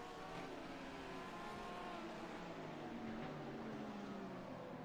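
A race car at Fuji Speedway in a sim racing game brakes and spins out: a sustained engine whine shifting pitch with downward-sliding tones as it loses grip, moderately loud and alone.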